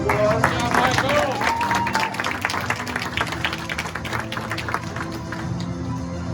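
Audience at a martial arts black belt ceremony applauding a student, a burst of dense clapping with cheers and crowd chatter that gradually thins out, with a voice calling over it.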